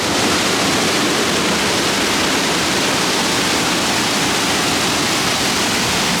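Water gushes loudly and steadily over an overflowing canal lock, spilling onto the towpath in a continuous broadband roar that holds close and unbroken throughout.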